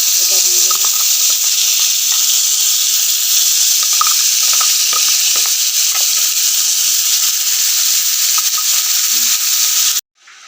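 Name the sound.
spice paste sizzling in hot oil in a wok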